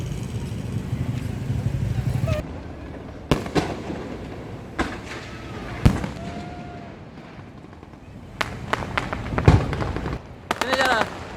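Fireworks crack and pop in irregular bursts at a night celebration with an ondel-ondel performance, sharp loud reports, some clustered in rapid runs, over a busy crowd with people talking.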